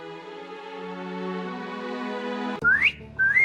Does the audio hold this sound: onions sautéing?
no